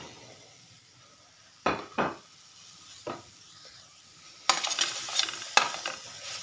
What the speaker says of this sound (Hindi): सब अच्छे से मिक्स कर लेंगे।